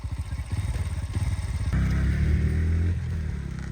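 A motorcycle engine runs close by at a village wedding, first with a rapid, pulsing idle thump and then a steadier, louder rev in the middle before easing back to the chugging idle. No talk can be picked out.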